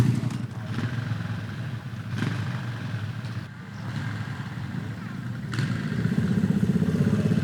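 Enduro motorcycles pass by in a military training area, engines droning at low pitch and swelling as they go by, with a louder build toward the end; no clear talk over them.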